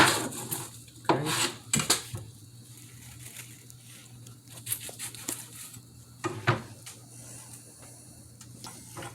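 Kitchen knife chopping strong onions on a cutting board during roast dinner prep, giving irregular close knocks and clatters in short bursts with quieter gaps, no talking.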